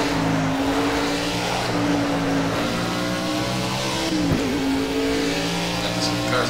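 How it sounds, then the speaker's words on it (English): Race cars in the racing game Project CARS roar at high revs, several engines layered in a loud, continuous whine with rising and shifting pitch and one brief dip mid-way, no voices audible. "Cars are so loud."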